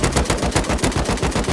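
Rapid automatic gunfire in the survival game Rust, loud close bursts of evenly spaced shots in a quick rhythm, with no talking over them.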